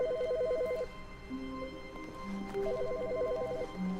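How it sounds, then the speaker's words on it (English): A telephone rings in The Stanley Parable, a warbling electronic trill in two bursts separated by a pause, over faint background music and ambient tones. "There's a phone ringing."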